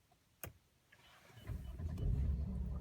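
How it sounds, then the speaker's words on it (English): A 2015 Mercedes-Benz E350 4Matic engine starts with the push-button starter: a sharp click, a brief whirr of cranking, then the engine catches and settles into a steady, growing low rumble. "hit the starter button to start the engine"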